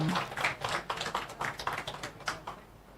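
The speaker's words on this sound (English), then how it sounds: "Put your hands together and welcome Honorable Floyd Green" An audience at a tourism office opening in Black River, St. Elizabeth claps to welcome a minister to the stage. The quick, dense clapping holds steady, then thins out toward the end.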